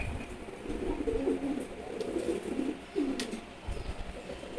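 Male pigeons coo in a loft, a steady run of soft, low, rolling calls that overlap one another at close range against a faint hiss of background noise.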